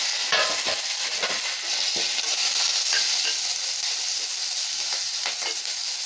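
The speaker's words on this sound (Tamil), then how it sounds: "இப்போ இதில் கருவேப்பிலையை போட்டுடலாங்க. போட்டுட்டு இந்த வெங்காயத்தையும் போட்டுடலாங்க." Curry leaves and onions frying in hot oil in a pan, a loud steady sizzle close up with light stirring scrapes scattered through it and no talking.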